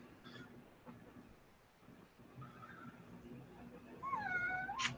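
Indoor house cat giving a drawn-out meow near the end, faint earlier mews amid a quiet room hum, fairly close.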